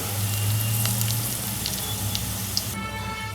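Onions sizzling and frying until golden in a pot for masoor dal pulao, a steady close hiss with faint crackles throughout, shifting to a brighter spattering texture near the end.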